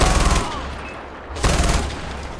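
Two bursts of rapid video game machine gun fire, a dense rattling stream, separated by a brief lull, loud and close.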